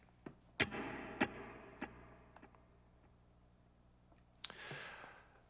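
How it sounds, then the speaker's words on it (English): Sparse electric guitar notes ring out softly through a plate reverb and dotted-eighth tape delay, each trailing into a long, washy reverb tail with faint echoing repeats between quiet plucks. "I'm using a plate reverb and a dotted 8th tape delay"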